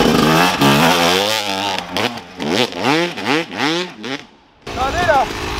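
A motocross motorcycle engine revs and accelerates through a flat, slippery corner, loud and close, rising and falling in several throttle surges before cutting out briefly and picking up again.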